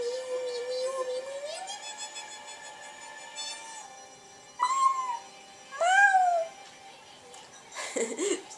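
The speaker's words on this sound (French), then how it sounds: "Ama, regarde, il y a un petit chat abandonné." An abandoned cat in the video game Okami HD meows several times, in clear drawn-out cries and short mews separated by gaps, over a soft game soundtrack.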